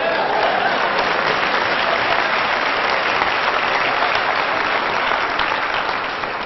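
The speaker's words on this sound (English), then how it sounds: "Come on, clap." An audience claps loudly and continuously for several seconds, and the sound tapers slightly at the end.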